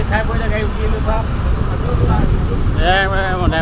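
A car is driven along with a constant engine and road rumble filling the cabin, while people inside talk over it.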